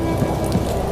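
Rain falls steadily and close by, a dense continuous patter on a surface with no gaps.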